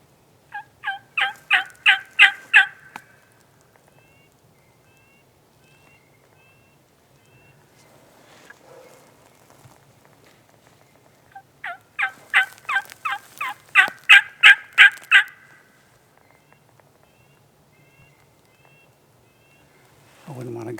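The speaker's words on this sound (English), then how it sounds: "I wouldn't want to gobble in this heat either." Wild turkeys gobbling on a hot day at a hunting camp, two long rattling bursts of rapid pulses separated by a quiet stretch, fairly loud and some distance off, with a brief low voice at the end.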